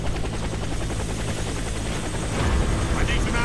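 Helicopter in the video game Comando Alfa 7, a loud, steady rotor drone with continuous chopping thrum, close and constant throughout.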